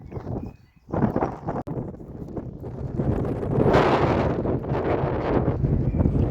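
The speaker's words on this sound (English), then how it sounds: "Windy." Strong gusts of wind buffet the microphone on top of the Malvern Hills, rising into a louder roar partway through, with a rough, rumbling texture and no talking.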